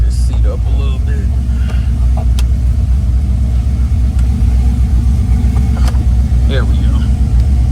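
A 1978 Oldsmobile Cutlass with a truck-type V8 runs with a strong, steady low rumble close by, while someone speaks briefly over it.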